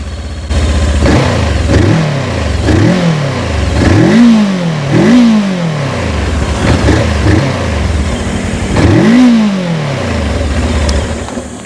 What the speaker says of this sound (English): It sounds like your run-of-the-mill 180-degree crankshaft parallel twin